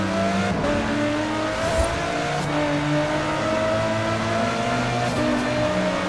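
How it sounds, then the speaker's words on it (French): A sports car engine in a video game roars and revs steadily with shifting engine tones, loud and continuous, with no voices. "Je veux entendre le moteur rugir en passant ce radar"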